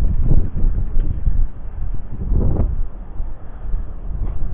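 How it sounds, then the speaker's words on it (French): Steady wind buffets the microphone in low rumbling gusts, with a rustling, blustery texture and no voices. "là, il y a encore du vent"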